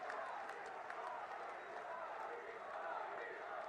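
A large crowd claps and cheers in a dense, steady roar to welcome the Prime Minister at a Rajasthan political rally, with no clear break through the whole stretch.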